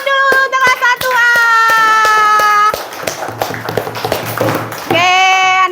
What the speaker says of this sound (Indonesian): Beri tepuk tangan dulu untuk kelas 1A.